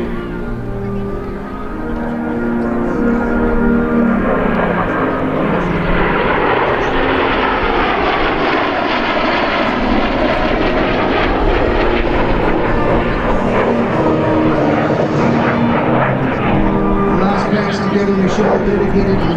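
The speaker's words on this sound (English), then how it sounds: "As these aircraft separate, Dan Dempsey will set up for last time" An F-86 Sabre and a CF-18 jet fly past at an airshow in Ottawa-Gatineau, a loud sustained jet roar that swells and holds steady for the full length, with a public-address voice faintly under it.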